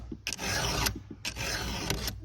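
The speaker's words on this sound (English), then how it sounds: "you can tell when a file is not cutting." A metal file rasping across a workpiece in two long, even strokes, with a gritty scraping texture and short pauses between them, close and fairly quiet with no talking.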